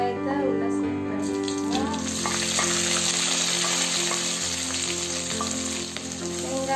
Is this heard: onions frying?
yes